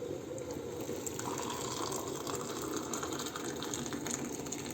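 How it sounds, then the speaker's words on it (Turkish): Boiling water pours steadily from a kettle onto fine bulgur in a bowl, a continuous close gushing splash that holds without pause. "Ve kaynayan suyumuzdan 2 su bardağı kaynar su koyuyorum"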